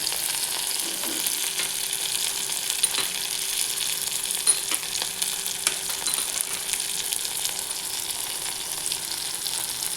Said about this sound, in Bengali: এবার সেদ্ধ করা আলুটা দিয়ে দিচ্ছি।